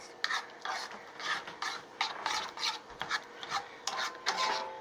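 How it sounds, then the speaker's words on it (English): Ingredients being stirred together in a bowl at home, a steady run of soft scraping, rasping strokes repeating every half second or so, close and fairly quiet with no talking. "And mix all the ingredients until they are nicely mixed together."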